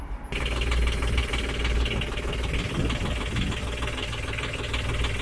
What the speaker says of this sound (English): So now we need to run the engine so that the coolant gets into the pipes and whatnot.